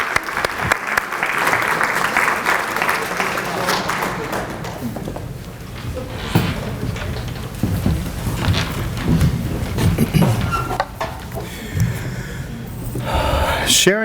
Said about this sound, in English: Round of applause for Jan.